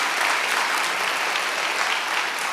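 A church congregation at a Friday evening worship gathering breaks into steady, dense applause, loud and continuous throughout, with a faint cheer beneath.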